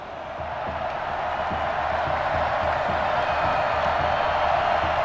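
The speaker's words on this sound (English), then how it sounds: "the crowd is loud and on its feet as Alan Myers gets things started" A stadium crowd at an American football game roars loudly and steadily from the opening kickoff. The dense, sustained wash of cheering swells slightly at first, then holds without a break.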